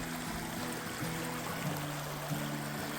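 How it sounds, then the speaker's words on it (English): Snowmelt water flowing down a ditch below fire-burned mountains near a cabin, a steady gurgling trickle close by with a low hum running underneath. "We never used to have water coming down the ditch this time of the year"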